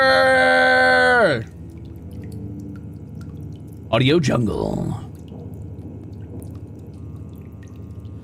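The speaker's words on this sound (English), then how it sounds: "Do you guys like the weird drippy water sounds?" A weird, drippy water sound effect plays in short warbling bursts between stretches of quiet, preceded by a brief spoken voice.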